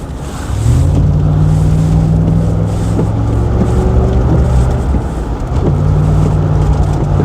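An Overfinch Range Rover P38 with 300 brake horsepower sets off quickly from a standstill, its engine note rising to a loud, steady drone heard from inside the cabin, then dipping briefly and climbing again.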